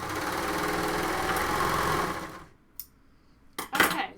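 A sewing machine stitches a cardigan seam in a fast, steady whirring run for over two seconds, then stops, followed by a few short clicks and bumps.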